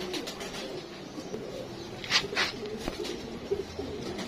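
Saharanpuri pigeons, a young breeding pair, coo in low soft murmurs against steady background noise, with a few brighter bursts around the middle and a faint voice at times.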